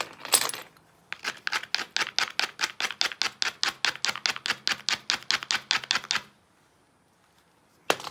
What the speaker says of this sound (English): You take the little bopper and kind of trim down the edge there.